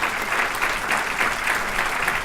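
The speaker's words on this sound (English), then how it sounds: "Give him a big round of applause." Applause from a gathered crowd at a regional civic event, honoring the mayor of Torrance: a brief, dense, steady roar of clapping with no break.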